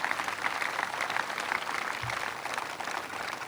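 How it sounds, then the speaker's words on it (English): A crowd claps steadily for the marching bands at an outdoor centennial parade, a sustained wash of applause from fairly far off with no talk over it. "let's give them a round of applause for being a part of our parade"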